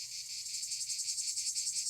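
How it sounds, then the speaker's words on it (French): A cricket chirping sound effect plays as a steady, fast-pulsing trill, faint and alone. "Là, tu mettras un petit bruit de grillon"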